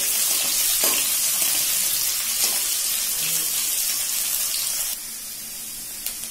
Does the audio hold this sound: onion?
yes